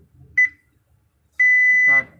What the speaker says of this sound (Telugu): స్టార్ట్ బీప్ అని రావాలి.